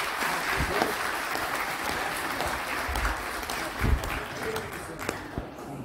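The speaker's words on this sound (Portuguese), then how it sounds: "Salve de palmas para o Luiz" Round of applause from the audience at a Rotary Club meeting in Itaquaquecetuba, Brazil, dense steady clapping lasting several seconds with a few louder individual claps near the microphone.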